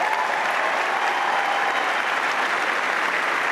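A Wimbledon tennis crowd applauds, dense steady clapping filling the whole stretch, loud and close, with no talking above it.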